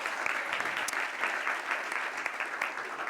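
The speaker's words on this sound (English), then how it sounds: "let's give her a nice round of applause about this." An audience applauds with dense, even clapping that stays steady and fairly close for the whole stretch.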